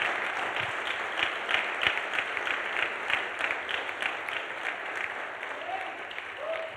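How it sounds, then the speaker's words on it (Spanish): Congregation applauding loudly during a church sermon, a full and steady roar of clapping with rhythmic accents running throughout, fairly close, with faint voices rising briefly near the end. "aplauda fuerte."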